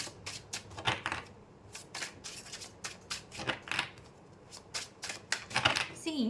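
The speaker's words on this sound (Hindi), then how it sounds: "मैं थोड़े कार्ड शफल कर लूँ यहाँ पर।" Tarot cards are shuffled by hand in quick bursts of crisp riffling and flicking, close and fairly quiet, with a brief voice at the very end.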